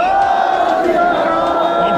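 A crowd at a Punjabi political gathering shouts the Sikh jaikara in reply to a call of Bole So Nihal, a loud, sustained collective roar of many voices.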